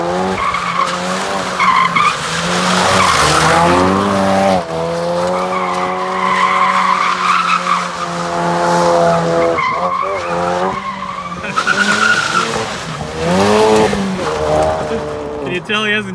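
A brand-new Ford Focus RS drifts and spins donuts in an open lot, tires squealing and skidding almost continuously under a droning, revving engine, with voices talking and reacting over it.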